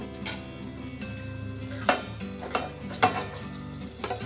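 Chicken bhuna being stirred in a pan, with a spoon scraping and clinking against the metal in a few sharp knocks over a low simmering bed of sound, close and moderately loud.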